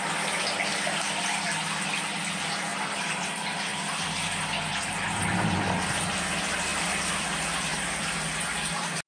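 Tap water pours steadily into a bathtub in a home bathroom, a continuous close gush that grows fuller partway through, with a low pump-like hum added.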